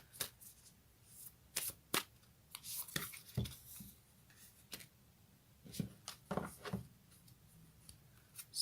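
Tarot cards, a fairy tarot deck, are shuffled by hand in a quiet room, giving a string of crisp riffling and flicking bursts at uneven intervals with no voice.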